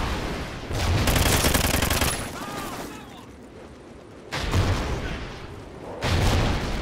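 Sentry gun in a multiplayer shooter firing long, loud automatic bursts up close, breaking off into short pauses between volleys, with voices talking underneath the gunfire.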